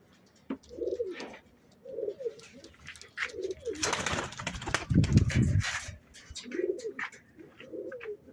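Several soft coos from Van pigeons repeat close by in a slow rhythm, interrupted midway by a burst of rustling, flapping noise.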